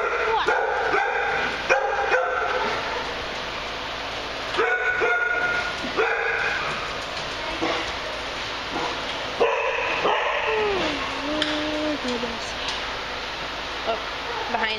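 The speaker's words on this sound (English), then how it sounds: "The one that's barking?" Dogs at a doggy daycamp bark and yip repeatedly, close and fairly loud, with a drawn-out whine partway through, while people talk nearby throughout.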